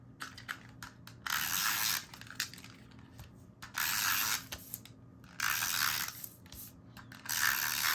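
Paper pieces for a mini album are glued together with an adhesive applicator that gives four or five short, close ratcheting bursts at a steady pace, with faint clicks and handling noise in between.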